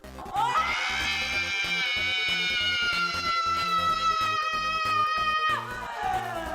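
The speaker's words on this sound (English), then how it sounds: "the scream in question comes from the scene where the character Sandy gives birth to the alien" A long, piercing scream from the film Inseminoid, as the character Sandy, played by Judy Geeson, gives birth to an alien. One shrill sustained cry rises sharply, holds steady at full volume for about five seconds, then drops off abruptly.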